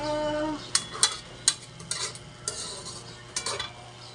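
Pancit canton noodles are stirred in a pan: a utensil clinks and scrapes sharply against the metal several times over a low, steady sizzle.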